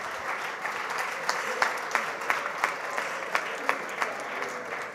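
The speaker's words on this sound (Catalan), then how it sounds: "podeu aplaudir també" A graduation ceremony crowd at a school applauds steadily, a continuous wash of clapping with distinct sharper claps punctuating it at a moderate distance.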